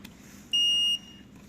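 A multimeter set to continuity buzz mode gives a single steady beep lasting about half a second while testing a dishwasher heater, clear and close against a quiet background.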